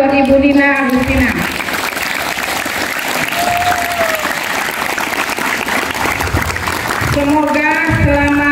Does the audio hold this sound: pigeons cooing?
no